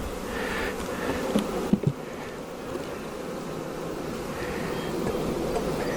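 Honeybees buzz steadily around a hive just after a queen is released into it, a continuous close insect hum with a couple of brief knocks partway through.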